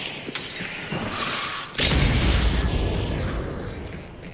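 A stick of dynamite goes off in the video game Hunt: Showdown with a sudden heavy boom partway through, followed by a loud rumbling roar and debris that slowly fades. Earlier there is softer in-game noise.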